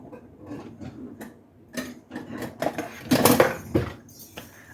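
Metal kitchen utensils clink and rattle as a whisk is pulled from among them, a string of close, irregular clatters building louder toward the end.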